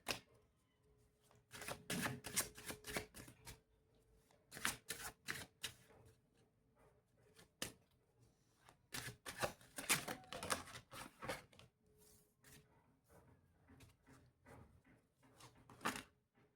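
Tarot cards are shuffled during a love reading, giving bursts of crisp rapid riffling and snapping separated by short pauses, close and fairly quiet, with no talk.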